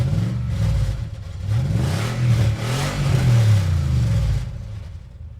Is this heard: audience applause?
no